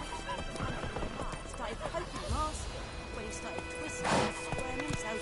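A horse gallops in The Witcher 3 video game, rhythmic hoof clip-clops that carry on under game dialogue, with a brief whinny-like burst near the end.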